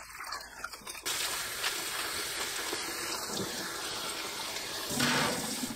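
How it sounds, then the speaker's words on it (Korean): Tap water runs steadily into a sink as mugwort is washed under it, a close, even splashing rush that starts after a brief quiet moment and swells slightly near the end. "쑥을 씻어주세요"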